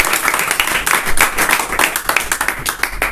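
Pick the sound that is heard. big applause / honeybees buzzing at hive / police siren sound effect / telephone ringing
big applause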